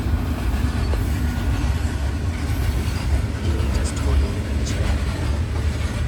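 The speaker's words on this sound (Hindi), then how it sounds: "गाइस ट्रेन भी आ गई" Train rolling past a railway level crossing near a hotel, a loud, steady rumble with rhythmic wheel clatter close by, continuing without pause.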